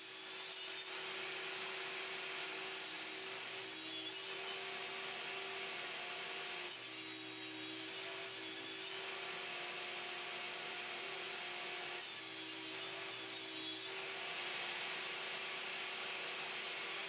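Hand saw cutting a notch in wood, rhythmic back-and-forth rasping strokes in regular bursts, close and clear, with no voices.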